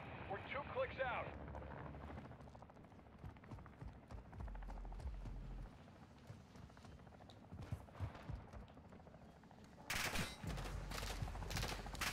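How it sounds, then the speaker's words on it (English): Gunfire rattles in a Warzone 2 DMZ match as scattered shots and bursts pop over a busy background, with a louder burst near the end and voices talking throughout. "Shots."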